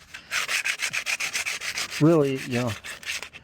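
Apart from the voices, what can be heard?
hand sanding with sanding discs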